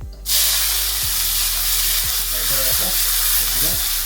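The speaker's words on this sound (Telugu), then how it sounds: "సాసులు ఇప్పుడు కరివేపాకు ఎండు మిరపకాయలు వేసుకుంటాము" Curry leaves and dried red chillies drop into hot oil and set off a sudden loud, steady spitting sizzle. Faint clinks and low voices sit beneath the frying.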